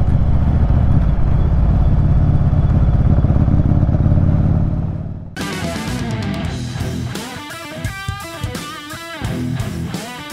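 A Yamaha Virago 1100 motorcycle with a carburetor float valve fault, running on one cylinder: a loud, rough engine drone for about five seconds, then a sudden switch to irregular clattering, uneven pops and knocks.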